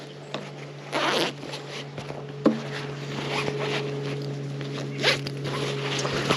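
A backpack pocket zipper is worked outdoors on the Appalachian Trail, with a few short, close zipping rasps and light handling noises over a faint steady hum.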